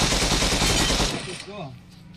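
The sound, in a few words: gunfire in the video game BGMI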